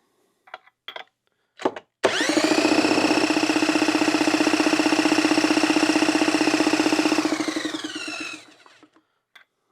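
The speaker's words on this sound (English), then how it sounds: "that's rolling these engines over" A 2006 Yamaha YZ250 two-stroke engine being rolled over, a few short clicks and bursts, then a loud steady mechanical whir with rapid pulsing lasting about six seconds before winding down, close up with no talk.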